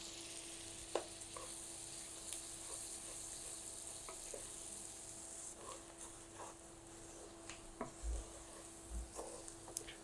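Button mushrooms and chopped garlic fry in a pan with a steady, quiet sizzle, broken by soft stirring knocks and the odd clink of a utensil against the pan.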